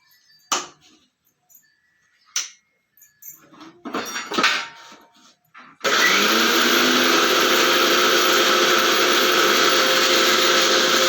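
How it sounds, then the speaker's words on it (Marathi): A few scattered clicks and clatters, then a mixer grinder starts up and whirs loudly and continuously at high speed grinding curry leaves until the end. "कडीपत्ता आता हे पण मिक्सरला बारीक करून"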